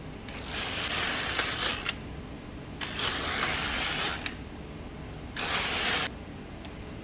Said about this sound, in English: Then I am going to knit 10 rows at tension